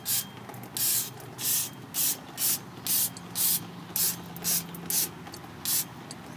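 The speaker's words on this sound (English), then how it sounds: "And now you're just going to take some brake cleaner" Brake cleaner sprays in short bursts onto a front brake rotor of a 2008-2016 Chrysler Town & Country, about ten sharp, loud hissing blasts in a steady rhythm with brief pauses between.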